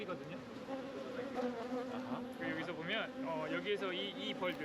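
Honeybees buzz steadily around an open rooftop hive full of stored honey, a dense close drone with a person talking over it.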